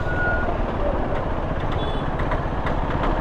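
Dense, steady roar of heavy road traffic with trucks and engines idling around a KTM 390 Adventure 2025 rider, a high reversing beep sounding briefly near the start and mid-way, with no talk.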